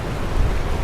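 Ocean waves rolling onto the shore at high tide at a tidal spot in Casiguran, Aurora, heard as a loud, broad, steady wash of surf with no voices.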